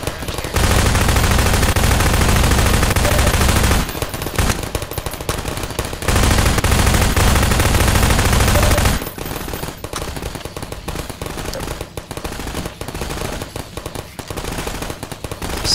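SMG gunfire in the Half-Life 2 Episode 2 video game, loud sustained automatic bursts with a short pause between them, followed by quieter scattered shots and game noise.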